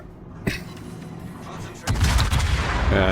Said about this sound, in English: He's firing at the Kearsarge right now with the 203s.